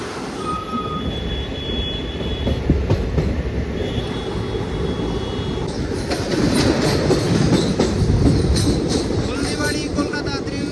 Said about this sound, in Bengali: Haldibari Kolkata Triveni intercity superfast express.